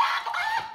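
A person imitates a chicken with their voice, giving short bursts of clucking that run steadily for under a second, close and fairly loud, with no other talk.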